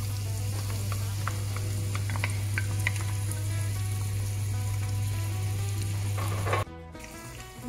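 Onion frying in oil for a mixed paella, a loud continuous sizzle with light stirring, alone without talk, with a constant low hum that cuts out near the end.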